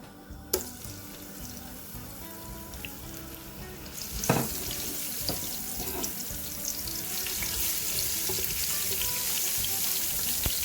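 Ginger garlic paste is dropped into hot oil for a Peshawari chicken karahi. The sizzle starts with sharp crackles and builds into a steady, loud frying hiss that grows denser toward the end. No voices are heard.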